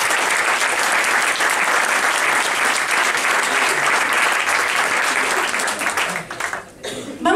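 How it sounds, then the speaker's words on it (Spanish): A concert audience at a tribute concert in the Bebop Club applauds loudly and steadily for several seconds, a dense wash of clapping that thins out near the end. "Le damos un fuerte aplauso."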